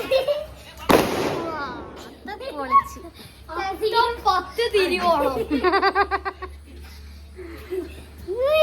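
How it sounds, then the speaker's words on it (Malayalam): A sharp firecracker bang early on during Onam Uthradam celebrations, followed by children laughing and chattering excitedly, with a faint background hum. "നമ്മൾ പടക്കം പൊട്ടിക്കോ"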